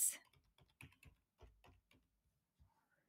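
Rapid keystrokes on a computer keyboard as a prompt is typed, a quick uneven run of close, crisp clicks that slows and fades toward the end.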